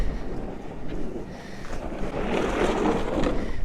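Steady wind on a frozen lake while ice fishing buffets the microphone with a low roar, swelling stronger and gustier toward the end, with no voices.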